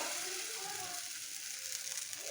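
Rice-flour batter for kheer patisapta fries in a pan coated with refined oil, a continuous bright sizzle that stays even and close, with faint scraping from the spoon as it spreads the batter.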